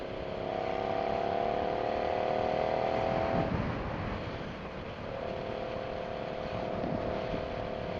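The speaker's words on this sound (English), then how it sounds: "for some reason, this area always has an absurd amount of wind" Heavy wind buffeting on a Suzuki SV650 motorcycle at road speed: a continuous loud rushing roar with steady engine drone, the tone dipping briefly midway before resuming.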